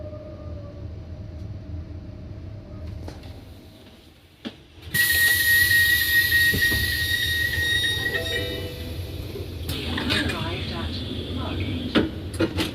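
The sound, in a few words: Southeastern Javelin high-speed train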